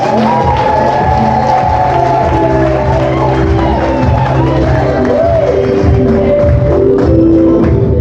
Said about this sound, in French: Ah, mais applaudissez quand même.